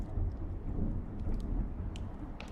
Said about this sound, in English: the storm rages just beyond the thin window panes